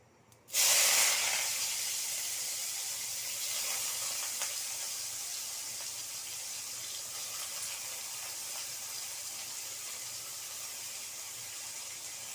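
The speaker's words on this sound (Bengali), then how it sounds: "এখন আমি পেঁয়াজ কুচি দেব" Chopped onion dropped into hot oil with toasted cumin bursts into a loud sudden sizzle, then settles into a steady hissing fry that carries on alone without voices.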